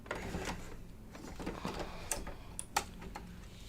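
A home embroidery machine stitching a design in the hoop while making an in-the-hoop mug rug, a quiet, fast run of light clicking and ticking with a few sharper taps, continuing steadily on its own.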